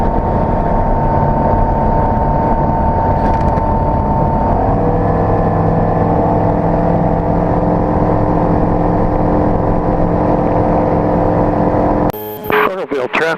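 Light low-wing airplane at Oroville, California, accelerating down runway 20 for takeoff, its engine a loud, steady drone heard from inside the cabin, pitch shifting as power builds, with a radio call partly audible under it.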